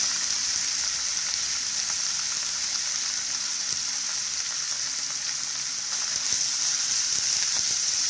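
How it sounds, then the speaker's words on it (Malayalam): Grated coconut frying in a pan for a Kerala erissery dish gives a steady, close sizzle with a dense crackle that holds level throughout, with no voices. "ഇതിനകത്തുള്ള നാളികേരം വറുത്തിടണം."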